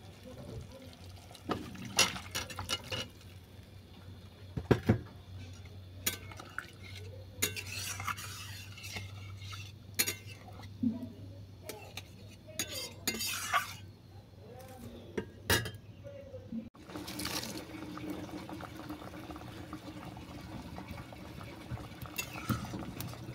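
A pot of Bengali bata fish curry with jute leaves simmering and bubbling softly, with a spoon stirring and clinking against the pot, faint and close, while a person talks.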